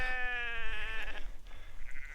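A sheep bleats once, a long wavering call held for about a second, close and clear outdoors on the South Downs, followed by quieter rustling ambience.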